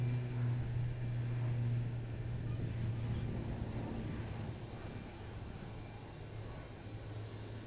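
Propeller airliner taking off from Itami Airport, a steady droning engine roar with a low hum that slowly fades as it moves away.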